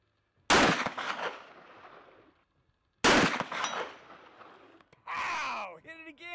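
Two sharp gunshots at clay disks, each a loud crack with a trailing outdoor echo, spaced about two and a half seconds apart, followed by a brief noisy burst and a short tonal squeak.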